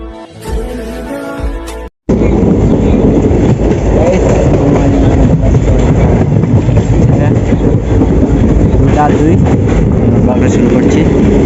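Steady loud rumble and rattle of a moving passenger train heard from inside a carriage, continuous after a brief sound at the start, close and dominant throughout.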